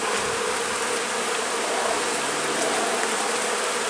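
Honeybees swarm around an open hive frame during a queen-marking inspection, a dense steady buzzing that fills the air up close, with no talk.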